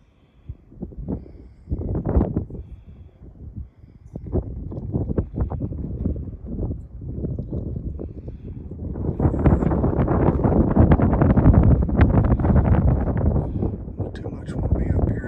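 Wind gusting across an exposed mountain trail in a wilderness stretch of the Appalachian Trail, rumbling into the microphone in uneven bursts early on, then building into a loud, sustained roar for the second half.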